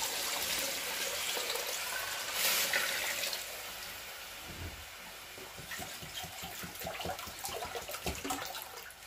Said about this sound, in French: Maintenant, à ce stade, je vais ajouter l'eau.